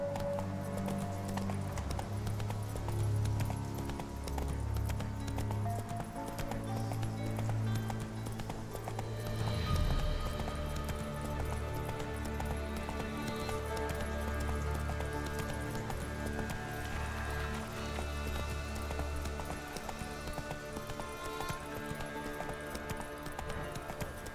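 Horse hooves clip-clop at a gallop in the video game Witcher 3, a continuous faint rhythmic pounding set under a layered musical score and ambient game sound for the whole stretch.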